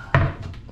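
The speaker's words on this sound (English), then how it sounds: "Two drawers down here, and some" A drawer or cupboard in a Symphony of the Seas Grand Suite cabin shuts with a single short thunk, followed by faint softer knocks.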